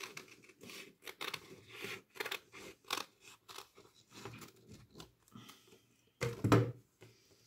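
Scissors cut through thick velvet fabric with quiet, rhythmic snips and crunches. A louder rasping cut comes near the end.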